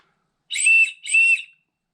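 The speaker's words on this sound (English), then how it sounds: "We got an ACR whistle. Let's see how it sounds." An ACR survival whistle gives two short, sharp, piercing blasts close up, each under half a second, separated by a brief gap in otherwise silent surroundings.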